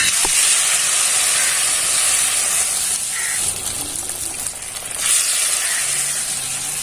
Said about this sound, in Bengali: আর এবার এটাকে ভেজে নেব।